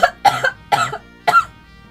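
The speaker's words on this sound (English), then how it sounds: "Yes, I am coughing." A person coughs three times in separate close, dry bursts, each followed by a short pause, with no speech around them.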